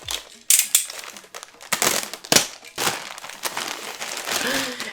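Plastic bag opened and crinkled during a holiday unboxing, close up, with irregular bursts of rustling and crackling across the stretch.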